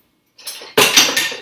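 Metal kitchen utensils clatter and clink loudly up close as a wooden spoon is pulled from among them, in a few sharp rattling bursts.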